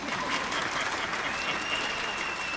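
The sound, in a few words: audience applause at movie audio launch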